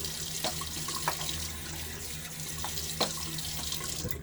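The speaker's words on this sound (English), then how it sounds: "I'm gonna do the quick rinse here" Bathroom tap running steadily for a quick rinse during a safety razor shave, constant close hiss of water with a few small splashes and taps, no speech.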